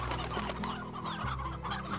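Faint chicken clucking from the video game Slime Rancher sits over a low, droning musical background, soft and continuous with no talking.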